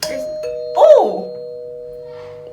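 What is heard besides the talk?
doorbell ringing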